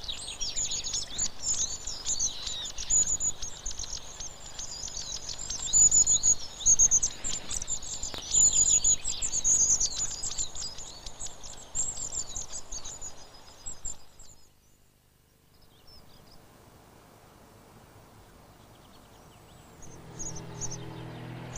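House sparrows in a garden keep up a dense, busy chorus of high chirps and cheeps. The calls come thick and continuous for about fourteen seconds, then fade to near silence before a few calls return faintly. No voices are heard.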